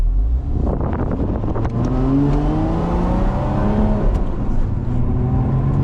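A 2025 Lotus Emira V6 accelerating hard through the gears from inside, its engine note rising steadily in loud rising sweeps, with a brief shift dip and then a climb again, droning continuously and close.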